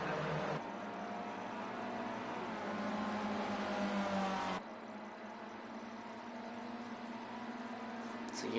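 A Formula C open-wheel race car engine in Project Cars 2 at the Red Bull Ring drones steadily at high revs, with a sudden drop in pitch as the car shifts, the whine holding constant and fairly quiet throughout.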